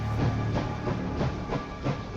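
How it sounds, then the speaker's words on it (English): A train starts up in the video game Last Train Home, with a steady heavy rumble, hiss and rhythmic clanking pulses from the rail cars, loud and continuous with no talking. "So I start up the train again."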